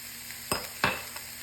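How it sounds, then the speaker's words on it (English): Sliced mushrooms seasoned with garlic powder and salt sauté in a pan, giving a faint steady sizzle with two distinct scraping stirs close by. "we're gonna let all that saute together, get those mushrooms kind of sauteed on there for a minute"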